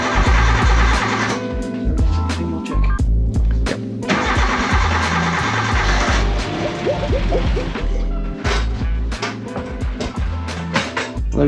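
A Suzuki Samurai on a one-ton build with full hydraulic steering cranks over and fires for the first time, close and loud, with rough cranking bursts catching into an uneven running engine with revs and clanks.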